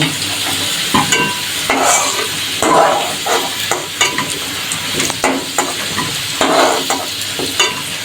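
Potatoes fry in hot oil in a wok with a continuous close sizzle, broken by bursts of louder crackling as the pieces are stirred and turned.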